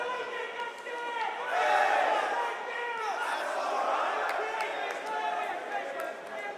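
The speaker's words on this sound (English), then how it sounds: "finally the crowd has something to cheer for" A large arena crowd at the Rainbow Six Siege Manchester Major esports quarterfinals cheers and chants in a sustained roar of many voices that swells early on and carries on throughout.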